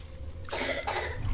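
A single muffled cough, close and fairly loud, breaks over low background noise.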